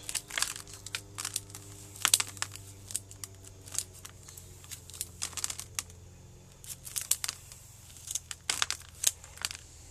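Scissors snip through old window screen mesh while repotting a shohin narrow leaf ficus bonsai, giving quiet, close, irregular clicks and crinkles in short bursts against a faint low hum.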